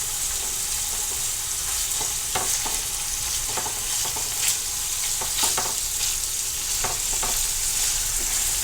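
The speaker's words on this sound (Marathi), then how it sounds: "अशा प्रकारे भाजून घ्यायचं असं लालसर होईपर्यंत" Paneer cubes shallow-fry in a pan until reddish, making a constant bright sizzle. Occasional soft taps and clinks from turning the pieces sound over it, and no voices are present.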